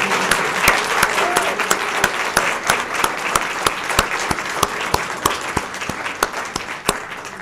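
An audience at a journalism ethics award presentation applauding steadily for several seconds, a dense, fairly loud wash of clapping with a few sharper individual claps standing out.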